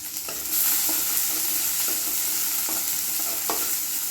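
Onions frying and sizzling in hot oil in a pan while being stirred, with a steady broadband sizzle and a few soft spatula scrapes at intervals, close by and without any talking.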